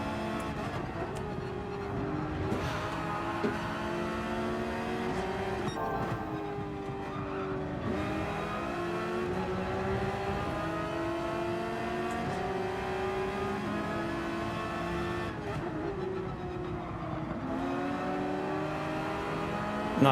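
Race car engine in the Gran Turismo 7 video game, revving hard and shifting through gears in a rhythmic rise-and-fall pattern, loud and continuous with no talking.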